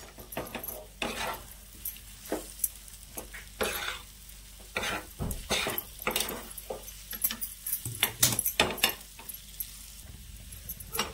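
Egg bhurji being stirred and fried in a pan, with a steady sizzle under repeated sharp scrapes and clinks of a spatula against the metal, close and busy throughout, with no talking.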